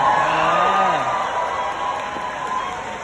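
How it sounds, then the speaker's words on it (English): A fan expo panel audience in Philadelphia applauds and cheers for a flashback shot, a dense, steady wash of clapping and crowd noise with scattered whoops that holds loud for the whole stretch. "Come on, applause for that shot."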